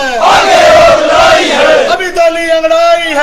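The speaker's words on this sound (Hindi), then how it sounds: "पूरी यूनियन के जितने कर्मचारी हैं वो नारेबाजी कर रहे हैं" Protesting electricity workers of a union chant slogans in unison, loud, drawn-out voices rising together, then a fresh call-and-response line starting near the end.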